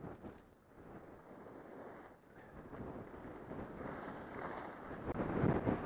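Steady wind rushes and buffets a microphone on the windy side of a ski slope at Alyeska, with gusts swelling louder toward the end and no voices.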